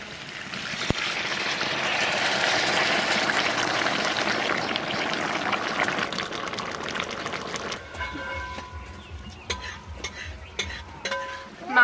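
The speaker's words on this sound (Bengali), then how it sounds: "এবার গরম জল দিয়ে দেবো।" Hot water poured onto mutton cooking in a pot: a continuous rushing pour and bubbling hiss for several seconds, then quieter simmering with light clinks and stirring noises.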